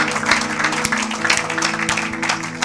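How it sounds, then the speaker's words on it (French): A church congregation applauding during a worship service, a steady wash of clapping from many hands with a few sharper rhythmic claps, fairly loud and continuous, over a sustained musical drone. "Acclamez pour la gloire de notre Dieu"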